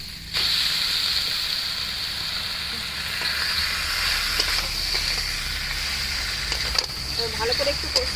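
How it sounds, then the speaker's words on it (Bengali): Taro greens sautéing with a hilsa fish head in a pan, a steady close sizzle and fry with occasional stirring scrapes running throughout. "ভালো করে একটু কষিয়ে নেব।"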